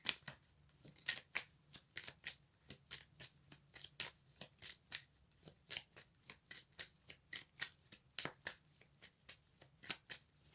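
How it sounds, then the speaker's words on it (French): Cards being shuffled for a tarot-style love reading, steady rapid riffling bursts repeating in a quick even rhythm, close and fairly quiet, with no talking. "Et on me dit qu'on tire une dernière carte."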